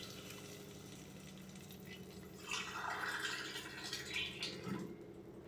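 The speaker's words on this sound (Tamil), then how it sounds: "ரெண்டு கிளாஸ் தண்ணி சேர்த்தாச்சு" Two glasses of water poured into a cooking pot while making Satyanarayana prasadam: a quiet, splashy pour that swells midway and trails off, close by and without speech.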